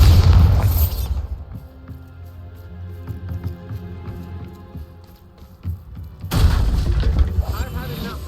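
Bombarda blasting spell from Hogwarts Legacy going off as a deep booming explosion at the start, followed by quieter rumbling debris and a second heavy blast near the end, with a voice speaking in between.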